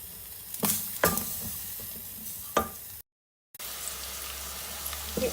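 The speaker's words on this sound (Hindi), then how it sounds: "ये देखिए नाज़रीन, प्याज हमारे जो हैं वो थोड़े से रेड हो चुके हैं" Onions frying in about a quarter cup of oil in a pan, turning light pink, a steady soft sizzle broken by a few sharp stirring scrapes, a brief dropout, then sizzling resumes close by.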